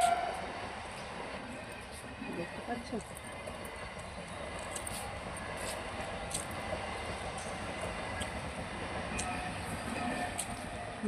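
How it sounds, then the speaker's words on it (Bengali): A train rumbles past a house at a moderate distance, a steady rolling clatter with faint squeals, while a person speaks briefly nearby. "দেখো ট্রেন যাচ্ছে বাড়ির সামনেটা দিয়ে"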